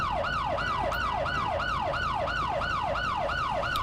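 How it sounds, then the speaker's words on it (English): A video game police siren on a Camaro patrol car wails, sweeping up and down in a fast, steady rhythm, continuous and clear against a low rumble. "Cut the siren."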